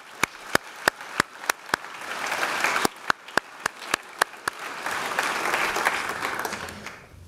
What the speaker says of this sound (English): So one more round of applause for the man,